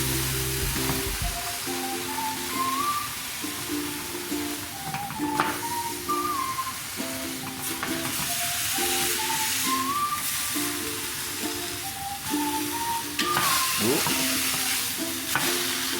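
Brisket sears in a hot pan, being turned repeatedly, with a steady frying sizzle running throughout and occasional scraping and clatter, fairly close.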